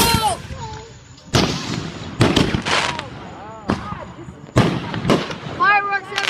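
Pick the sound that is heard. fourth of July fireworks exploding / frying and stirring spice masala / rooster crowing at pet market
fourth of July fireworks exploding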